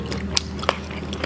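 Close-up crunchy bites while eating Thai cassia-leaf curry with apple snails: two quick, crisp crunches within about a second over soft chewing.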